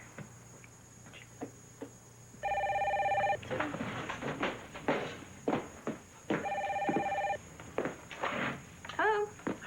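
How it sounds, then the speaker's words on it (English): Two loud bursts of a ringing telephone sound in a room, with footsteps and small movement noises in between and a short squeaky sound at the end. "It's the phone."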